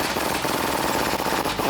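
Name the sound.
impact gun removing a bolt in a Ram 1500 wheel well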